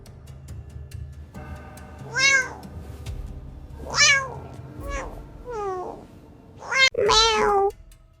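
Several cartoon cat meows with bright, rising-falling harmonic calls, five or so spaced across the clip over a faint musical background, from an animated kids' story about a cats-and-animals football match.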